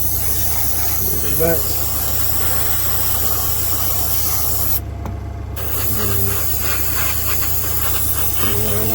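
A Parkside van model kit gets spray painted with a steady, close airy hiss running almost without pause, dropping out briefly midway while someone speaks a few words over it.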